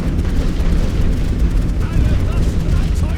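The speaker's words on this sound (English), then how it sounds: "enemy artillery now as well" Enemy artillery in The Great War: Western Front, a continuous low rumbling barrage of distant booms forming a heavy wash under a voice.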